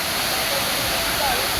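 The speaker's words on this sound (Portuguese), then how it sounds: "Cachoeira do Cerrado, tem várias cachoeiras." A waterfall at Cachoeira do Cerrado, a loud, continuous roar of falling water heard up close, with a voice faintly present under the steady rush.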